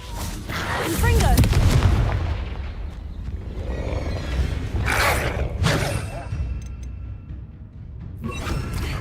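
The Confringo fire spell goes off in Hogwarts Legacy, a loud booming blast followed by rumbling explosive bursts, with more thuds and crackles continuing behind.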